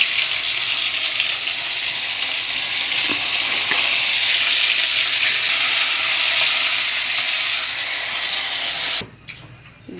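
Fish and potatoes fry in spiced oil with garlic, ginger, green chilli and tomato paste, giving a steady, loud, close sizzle with a few soft stirring clicks before cutting off abruptly near the end.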